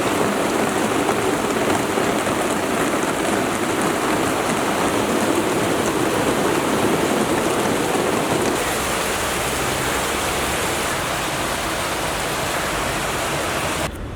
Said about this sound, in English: The rain, it just doesn't want to stop.